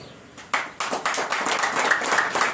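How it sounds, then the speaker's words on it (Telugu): A short burst of hand clapping starts about halfway in and continues steadily, like a small group applauding nearby at a Christian prayer meeting held in a garden. "కోరాహు కుమారుడికి చప్పట్లు కొట్టాలి."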